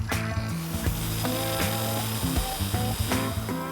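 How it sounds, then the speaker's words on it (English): An angle grinder cuts steel tubing salvaged from a tip, a steady high whine shifting in pitch as the disc bites and eases off, loud and close with no speech. "Neil breaks out the angle grinder"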